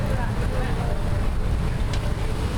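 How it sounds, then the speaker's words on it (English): Breeze blowing through a park between the New York and Monte Carlo casinos, a steady rumbling wind buffeting the microphone, close and loud throughout. "Somehow it's very breezy. Maybe it's a breezy day overall,"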